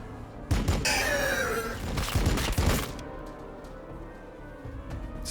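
A squad of Blood Angels fires weapons in Warhammer 40K Battlesector, a loud burst of overlapping shots and impacts in the first few seconds, then a lower rumbling tail that fades out.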